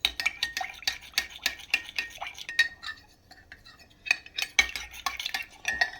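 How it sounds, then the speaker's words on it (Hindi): A spoon clinks and scrapes rhythmically against a metal pot while milk for rabri is stirred and mixed, quick repeated strokes close by with a short lull midway. "इन्हें अच्छी तरह मिक्स करांगे।"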